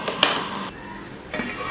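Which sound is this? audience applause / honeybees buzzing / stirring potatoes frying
stirring potatoes frying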